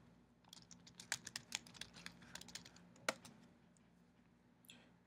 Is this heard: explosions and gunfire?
no